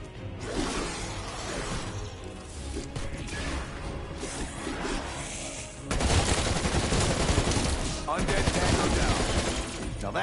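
Dense, continuous video game weapon fire forms a rapid volley with crashing, shattering impacts and whooshes, growing heavier and louder in the second half.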